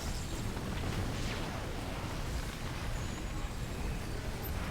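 Ion cannon blast in the video game Command and Conquer 4: Tiberium Twilight, a sustained, heavy, rumbling roar filling the whole clip at steady loudness with no talk over it.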